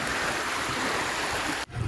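A river flowing with a continuous broad rushing wash, loud and close, cut briefly near the end.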